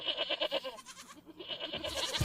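A goat-bleating sound effect plays during a live sports betting stream, several wavering, nasal bleats overlapping one after another, loud and continuous across the whole stretch with no talking.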